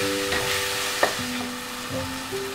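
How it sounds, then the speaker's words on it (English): Chopped tomato and green chilies sauté in a pan for a simple tiffin pasta, giving a steady close sizzle with a few soft stirring scrapes and clicks, no voices. "Then goes 1 medium tomato that's chopped, sauteed for a few minutes."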